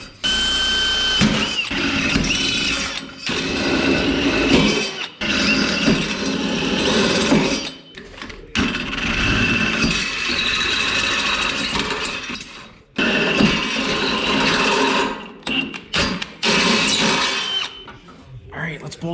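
A ratchet tightens bolts on a Blazer gas tank being fitted into an S10 pickup, with rapid clicking bursts in several separate runs broken by short pauses, close and loud, while someone talks in between.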